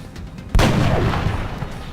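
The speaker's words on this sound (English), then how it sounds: "can we wipe this guy out with a sniper shot?" A single loud sniper rifle shot in XCOM: The Long War cracks out sharply after a quiet moment and leaves a long booming tail.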